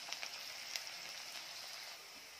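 Onion frying in a pan for a drumstick curry, a faint, steady sizzle with a few small pops.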